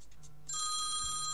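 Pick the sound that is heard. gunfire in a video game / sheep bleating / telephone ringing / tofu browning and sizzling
telephone ringing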